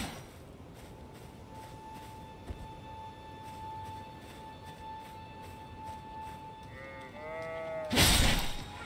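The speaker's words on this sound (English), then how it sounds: "Is that my horse? No, it's a sheep or something." Animal bleating in the video game Elden Ring, a few wavering calls near the end over a steady ambient drone, followed by a loud sudden crash-like burst.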